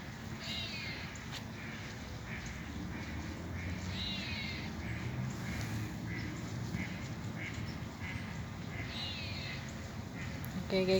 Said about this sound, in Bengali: হাঁস সবগুলো পরে আসছে ঘাস খাওয়ার জন্য